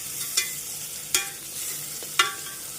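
Beef frying with salt in a hot pan, a soft continuous sizzle broken by three sharp scraping clinks of a spatula stirring the meat, close and fairly quiet, with no voices.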